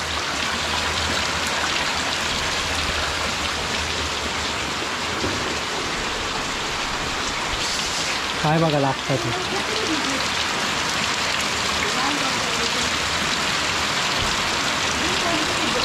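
Steady rain of the first monsoon shower at Naringre, Devgad, falling during paddy sowing, a constant wash that fills the whole clip, with brief voices speaking partway through.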